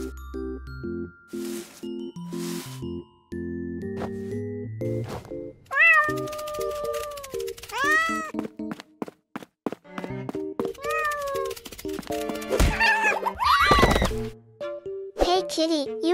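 A cat meows repeatedly, several rising and falling cries up close, mixed with chimes, thumps and a voice speaking.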